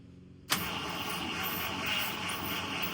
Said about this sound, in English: Turn it over a little bit, see if it sucks some gas out of this can.